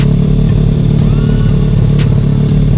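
A full race-spec motorcycle engine revving on the throttle, loud and close, with a steady rough roar and a slight rise in pitch, and no voices.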